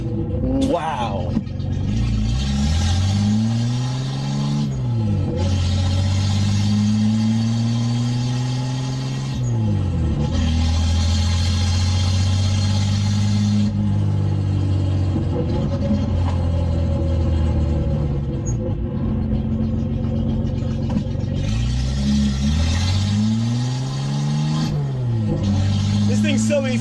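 Datsun 280Z with an open header roaring loudly from inside the cabin, revving up through the gears with repeated rising pulls and brief dips at each shift, a raspy unmuffled drone throughout, with occasional voice over the engine.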